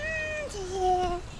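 A house cat meowing indoors at a family meal, two drawn-out, falling meows close by that overlap briefly, with faint room noise beneath.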